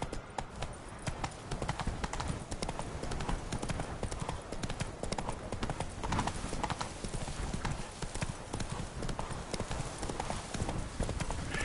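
Roach the horse galloping in The Witcher 3, hooves pounding in a fast steady clip-clop rhythm, continuous and close, with a brief voice underneath.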